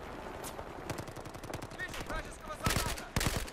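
Rapid automatic fire from an M-TAR assault rifle in the Battlefield 4 multiplayer video game, with quick bursts of close shots and louder volleys near the end, alongside some speech.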